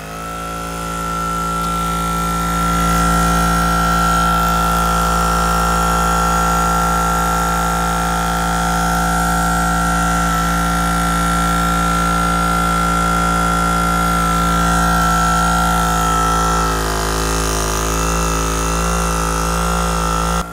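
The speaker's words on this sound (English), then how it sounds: "Alrighty, let's get it fired up and see how it works." A Bulldog Winch air compressor runs steadily at close range, filling a tire with a loud continuous motor hum and whine that starts up, holds level for about twenty seconds, and shifts slightly near the end.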